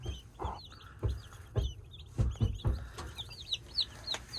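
Chicks peep and cluck in quick overlapping bursts, close by in a chicken room with a couple of ducks, with a few soft thumps and rustles underneath.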